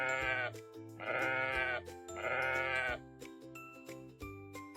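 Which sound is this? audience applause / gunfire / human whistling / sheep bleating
sheep bleating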